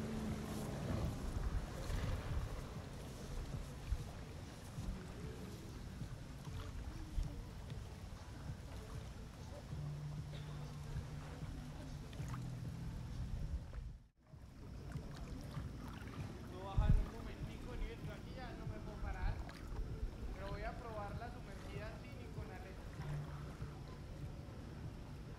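A boat's engine rumbles low and steady as it pulls away from anchor off Playa Estrella at Bocas del Drago, Panama, mixed with wind buffeting the microphone and occasional nearby talk.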